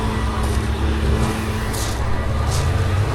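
Cars circling a wet race track in Rustavi while crews dry the surface, a steady close engine drone with low rumbling tones and a few brief passing whooshes, no talk.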